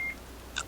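A phone gives a short electronic beep followed by a brief brighter bleep over a low background hum.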